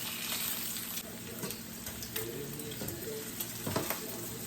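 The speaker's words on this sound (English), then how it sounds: "I'm gonna flip this bacon. It's popping me in the face." Homemade smoked peppered bacon fries in a pan with a steady, close sizzle, crackling and popping throughout, with a few louder spits and scrapes along the way.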